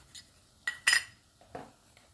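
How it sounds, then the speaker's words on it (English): A spoon scooping simbambili curry powder from a container, heard as a few light, close metallic clinks and scrapes spaced apart against a quiet background. "And then I also have this simbambili curry powder. I'll scoop a bit."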